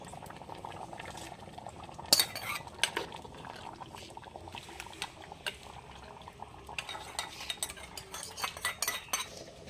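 A pot of curry bubbles and simmers while a spoon clinks and scrapes against it, with irregular stirring knocks and liquid sloshing close by, as a coconut oil tempering of mustard seeds, dried red chilies and curry leaves is added.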